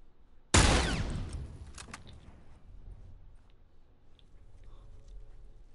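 Gunfire in The Last of Us Remastered multiplayer, one sharp loud burst that decays over about a second, then a quieter room tone with faint scattered game sounds.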